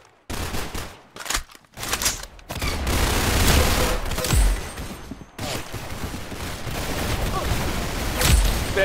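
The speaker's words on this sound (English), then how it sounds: "Very good shooting." Rapid gunfire from a Roblox shooting game, loud bursts of fusillade-like shots continuing through most of the stretch with brief gaps and a few heavier booms.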